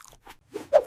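Someone chews loudly: a few crunchy bites close to the microphone, irregular and sharp, with the last bite the loudest.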